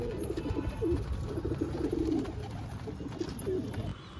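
Pigeons coo in soft, repeated throaty rolls close by at a pigeon loft, several overlapping calls over a steady background hum.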